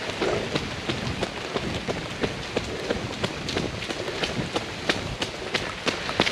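Steady rain falls during an outdoor morning run, a dense hiss with frequent sharp drop hits and patters close by, continuous and fairly loud with no voices.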